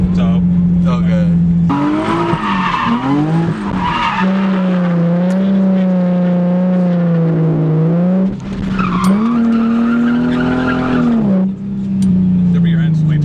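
A car spins its tires in circles with a loose rear end and little grip, the engine droning steadily while the tires squeal loudly and continuously, close up, with people talking over it.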